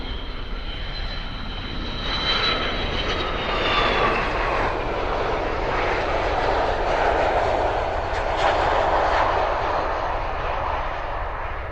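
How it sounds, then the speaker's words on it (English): A KC-135 tanker's jet engines roar continuously at RAF Mildenhall, a broad, heavy rumble with a high whine that swells and drifts as the aircraft passes, loud and at moderate distance. "Oh, and we've got a KC 135."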